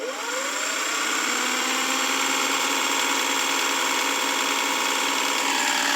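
A Singer 404 sewing machine winds up and runs fast at a steady, high-speed whir with a constant mechanical hum, close by and alone.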